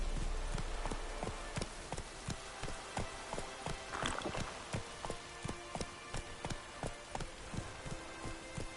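Horse hooves galloping in the video game The Witcher 3, a steady fast clip-clop rhythm of many even beats over a constant background wash, moderately close and without talk.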